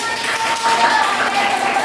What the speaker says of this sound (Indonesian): Kasih tepuk tangan dulu buat teman-teman